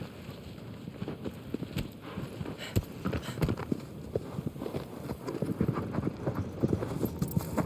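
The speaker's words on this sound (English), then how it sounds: "He's a good horsey." Horse hooves clip-clopping in the video game Elden Ring, a steady stream of close, crisp hoofbeats at a trotting pace over a low background, with no talking.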